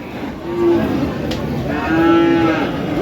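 A cow moos twice nearby at a cattle market, two drawn-out low calls about a second apart, over outdoor background noise.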